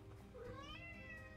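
A house cat meows once, a rising, drawn-out cry heard close by in a quiet indoor room, with no one speaking over it.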